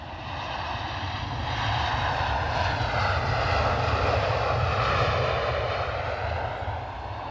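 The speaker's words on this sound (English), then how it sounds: "we've got the inbound EasyJet, the Lisbon flight" An EasyJet airliner on its inbound flight from Lisbon arrives at Edinburgh Airport, its engines a loud, steady roar that swells to a peak and slowly eases off, with no speech over it.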